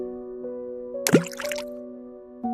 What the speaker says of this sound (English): his prized possession splashed into the water.